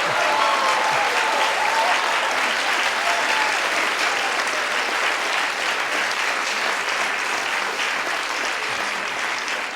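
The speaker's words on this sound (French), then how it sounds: "on l'applaudit bien fort." Sustained, dense audience applause fills a congress hall, loud and steady from start to finish with no break, the many hands clapping close together into a continuous roar.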